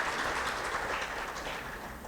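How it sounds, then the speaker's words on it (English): Soft, dense applause honoring nurses at a hospital celebration, a faint, even wash of clapping heard from a distance and sustained without pause. "A big round of applause for them."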